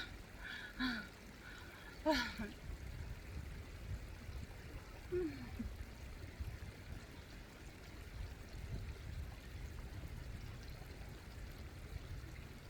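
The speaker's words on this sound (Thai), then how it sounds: "ทุกคนได้ยินเสียงน้ำตกไหมคะ" A waterfall in the Swiss mountains gives a faint, distant, steady rushing wash throughout, with a few brief vocal sounds early on.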